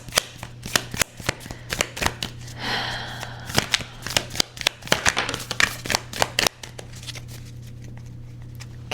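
Tarot cards from the Gaia deck shuffled by hand in repeated crisp riffling bursts, close and clear, with a softer rustling pass midway and a low steady hum underneath.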